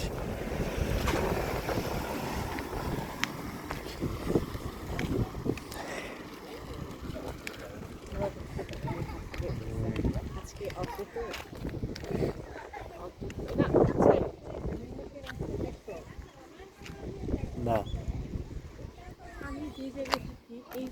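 Cold wind gusts roar against the microphone in low rumbling bursts at a park in Japan while people talk throughout.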